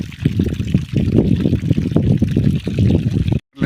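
Water pouring into the basin around a sapota tree in an orchard, a steady close gurgling trickle and splash that drops out briefly near the end.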